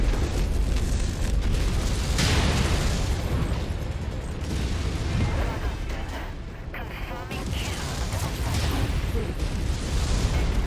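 Weapons fire in MechWarrior 5 Mercenaries striking a Catapult mech: loud, dense rumbling blasts and bursts of explosions rolling on continuously, near and heavy, with no talk over them.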